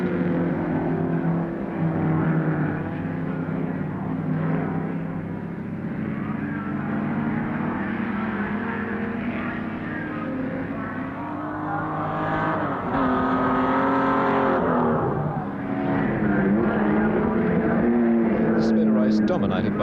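Holden Torana touring cars race at Warwick Farm in 1973, their engines droning and revving steadily throughout with pitch shifts as cars pass, under continuous commentary.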